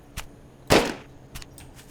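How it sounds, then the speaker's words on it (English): A gun fires in the Grav Reborn video game: one loud, sharp shot with a short tail, surrounded by a few fainter pops and clicks, close and without talk. "I'm just gonna shoot you."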